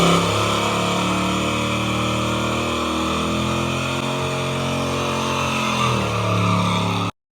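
A 1979 Chevy truck engine revs hard and continuously for a burnout, loud and close with the pitch rising and falling as the throttle is worked, then cutting off abruptly.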